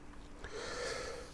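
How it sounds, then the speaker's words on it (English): A single close, wet sniffle drawn in through the nose, a short airy inhale that swells and then fades, heard on its own with no talking over it. "excuse the sniffling"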